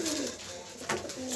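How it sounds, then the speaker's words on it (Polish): Pigeons coo softly nearby, low throaty calls repeating over a faint hiss of background noise. "Jesteśmy u gołębi."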